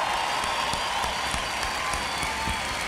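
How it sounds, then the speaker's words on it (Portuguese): A large festival crowd applauds a rock band at Planeta Atlântida, a loud, dense, continuous wash of clapping with scattered cheers. "Queria que vocês aí, ó, junto comigo aí, aplaudissem esses quatro caras foda aí, ó."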